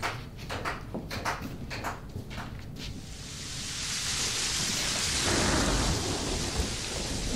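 Heavy rain pours steadily with rolling thunder, the downpour swelling louder in the second half; no talk is heard.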